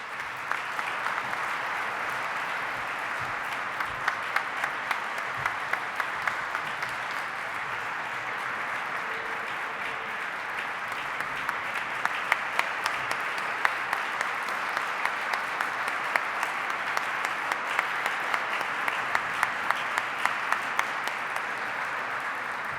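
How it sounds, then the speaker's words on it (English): A large audience at an award ceremony applauds steadily and loudly, a dense sustained wash of many hands clapping with scattered sharper claps standing out throughout, no voices heard. "one more generous round of applause."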